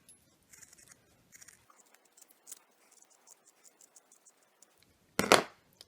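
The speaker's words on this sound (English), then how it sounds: "now I'm going to cut them out" Scissors cutting through burlap flower petals, faint scattered snips and fabric scratches in a quiet room, ending in one louder, coarse rasping cut.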